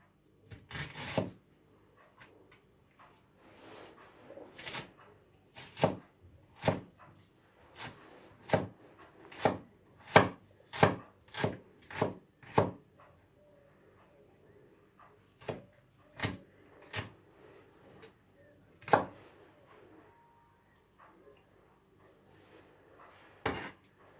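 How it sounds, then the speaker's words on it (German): A knife chopping an onion into small dice on a board: close, sharp thuds coming in quick runs, then pausing and resuming, with quiet rustling between strokes. "und die Zwiebel habe ich kleiner gewürfelt geschnitten"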